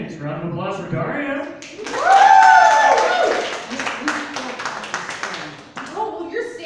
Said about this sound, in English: Round of applause for Daria.